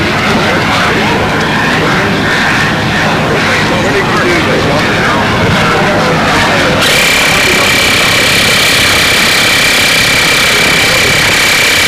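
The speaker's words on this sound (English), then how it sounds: "Is that the Black Widow they're firing up now, John?" Model aircraft engine of a Black Widow being fired up at a windy 1997 model aviation nationals, a loud steady high-pitched whine that starts abruptly midway and holds, over earlier wind noise and crowd sound.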